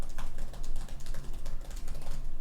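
Fingers type quickly on the keyboard of a Dell XPS 13 9310 laptop, a steady, close run of soft clicking keystrokes with no voices.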